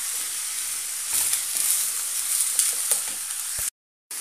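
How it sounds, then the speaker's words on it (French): Vegetables sizzle steadily in hot oil in a pan while being stirred, a dense continuous crackle with a few louder scrapes, breaking off briefly near the end. "je viens mettre les légumes et puis tourner légèrement pour bien répandre l'huile autour de chaque morceau de légumes"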